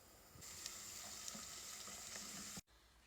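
Onions sizzle in a pan over low heat for a lamb keema, a steady bright frying hiss that holds evenly for about two and a half seconds and then cuts off abruptly, with faint stirring clicks scattered through it.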